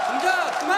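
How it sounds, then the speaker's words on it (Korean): Korean Marine Corps recruits at a training-center graduation let out a brief, loud, massed shout of many voices blended into one roar. "해병대 교육훈련단의 함성 소리가 울려 퍼집니다"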